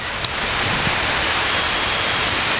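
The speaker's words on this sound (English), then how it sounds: "it's pouring rain" Heavy rain pours down steadily outdoors as a dense, unbroken hiss, loud and constant across the whole stretch, with no voices heard.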